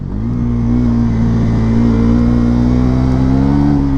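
A Bajaj NS400Z motorcycle accelerates on a city street, its engine droning loud and close, with a steady hum that climbs slightly in pitch as it builds speed, over continuous road and wind noise.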